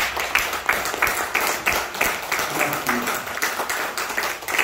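A church congregation applauds during a Sunday worship service, with a continuous wash of many hands clapping at moderate volume, fairly even throughout.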